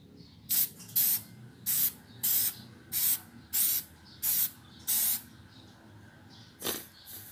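K&N recharger oil sprayed onto a drop-in air filter from a Ford Fiesta Mk7, about ten short sharp aerosol bursts in an even rhythm, a pause, then one more burst, close and loud against a quiet background.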